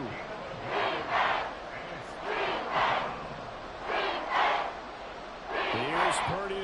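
Stadium crowd roaring in Madden 24, an American football game, swelling in three or four loud waves, with a commentator's voice heard between the surges.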